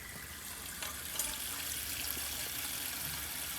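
A 1980 Eljer Emblem toilet flushing, water rushing and swirling into the bowl with a steady gurgling flow and a short surge as it siphons down, fairly close and continuous.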